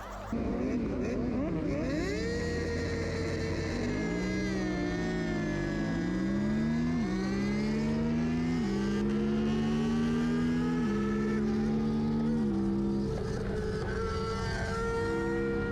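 A race motorcycle engine at a race start revs loud and close, bogging from too few revs, its pitch climbing and stumbling in uneven steps as it struggles to pull, holding a constant roar throughout.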